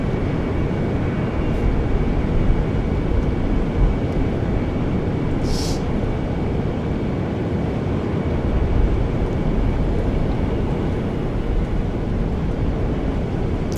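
Steady broadband roar of an iniBuilds A350 airliner cruising in flight in Microsoft Flight Simulator 2024, a continuous even cabin drone with a brief hiss midway and no talking.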